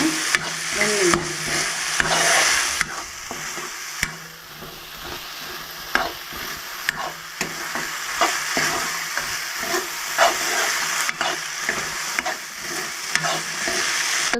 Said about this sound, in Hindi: अब इसमें डाल देंगे और इनको अच्छे से मसाले में भून लेंगे